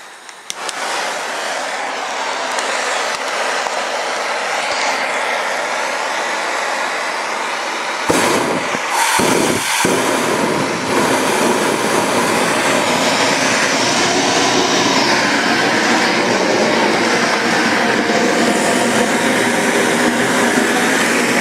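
A liquid propane crucible burner built from .858 tube roars steadily and loudly throughout, with a brief sputtering break about a third of the way in before the full, continuous rush resumes.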